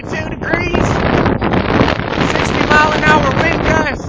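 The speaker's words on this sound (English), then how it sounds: "60-mile-an-hour wind gusts" Loud, close roaring of 60 mph gusts over stormy seas, dense wind buffeting with thin whistling tones riding on top, sustained with only brief dips.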